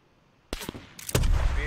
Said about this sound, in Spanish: Sí, he oído tiros, yo también.